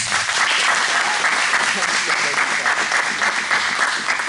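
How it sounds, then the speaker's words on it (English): Applause from a chapel audience at a student government recognition as members stand when their names are called; steady, dense clapping fills the room continuously at close range, with voices faintly mixed in. "As your name is called, please stand up and then everybody clap"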